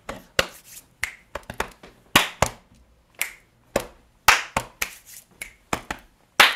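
Sharp, close finger snaps and hand claps in a loose rhythmic pattern during a body-percussion song lesson, each hit crisp and separated by short silences, with no talk.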